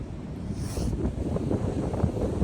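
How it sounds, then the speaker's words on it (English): Strong beach wind buffeting the microphone, a loud low rumbling wind noise with gusty fluctuations throughout and faint surf beneath. "Okay, it's way too windy"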